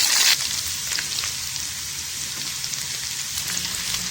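Garlic, curry leaves and cumin sizzling in hot oil for a tempering over lentils, a steady, close, crackling fry with a brief louder hiss at the start and no talk.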